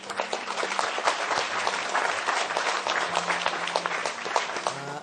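A hall audience at a PTV 58th anniversary show gives Madam Zeenat Sana a full, dense round of applause that holds steady and loud from start to finish.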